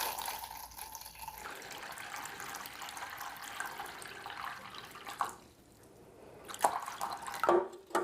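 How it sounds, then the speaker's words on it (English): Water is poured into a seedling tray, a soft, continuous trickling stream close by that pauses and resumes, with a few sharper splashes and drips near the end. "we're just going to take a little bit of water and we're just going to pour"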